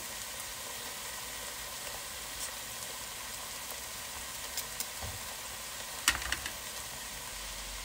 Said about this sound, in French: j'ai frit un petit peu les oignons avec la viande. Je vais rajouter les carottes.